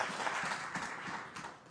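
Audience at a gathering in Washington DC applauding themselves, a soft, steady patter of many hands clapping heard from a distance.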